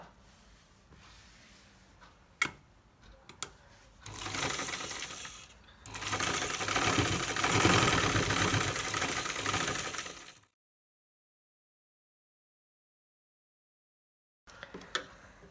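A sewing machine stitches a designer sleeve, opening with a few sharp clicks and taps. It then whirs in two steady mechanical runs up close before falling silent, followed by a few more faint clicks.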